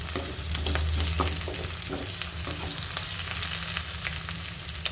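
Dry red chillies frying in hot oil in a kadai give a steady, close sizzle with scattered crackles and pops. No one speaks over it.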